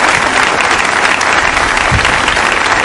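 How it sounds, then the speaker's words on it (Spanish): Steady, dense applause from a TV studio audience fills the whole stretch, loud and continuous with no voices over it. "gracias por los aplausos"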